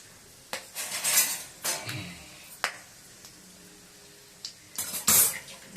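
Several sharp metallic clinks and clatters of utensils against a pan while tempering cardamom and fennel seeds for Nellore tomato rice, in irregular bursts with pauses between, fairly close.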